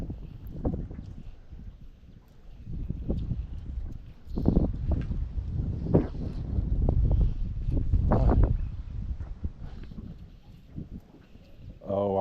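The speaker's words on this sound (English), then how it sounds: "the wind is really messing with me" Wind gusting over a lake on a summer bass fishing trip, rumbling and buffeting against the microphone in uneven surges that swell and fade, close and fairly loud throughout.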